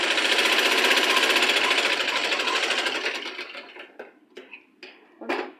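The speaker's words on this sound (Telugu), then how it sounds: "స్టిచ్ అనేది సమానంగా పెట్టేసుకొని ఇలాగా స్టిచెస్ వేసేసుకోవాలి." A sewing machine stitches the side seams of a blouse, a loud steady whirring run that slows and breaks into short separate bursts near the end.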